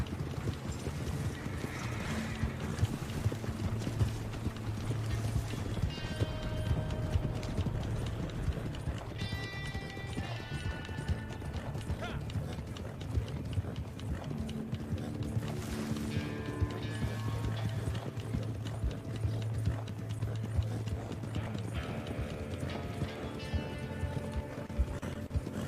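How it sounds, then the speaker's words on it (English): Horse hooves pound in a steady galloping rhythm amid Red Dead Online game ambience, with creaking and mechanical clicks and brief musical tones. "Which horse is this I'm riding?"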